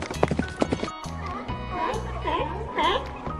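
Clip-clopping hooves open the passage, then a horse's whinny rises over a light, bouncy music backing in a children's animal lesson.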